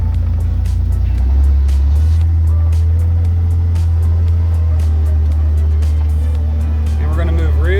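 A vehicle's engine drones steadily at close range as it shifts into high gear and pulls away with its parking brake released, the low rumble continuous throughout while someone talks over it.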